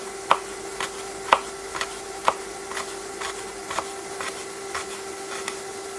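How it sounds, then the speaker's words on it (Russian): A knife finely chops garlic on a board in a home kitchen, giving soft, evenly spaced taps about once a second over a quiet background hum. "Это тоже мелко нарезаем."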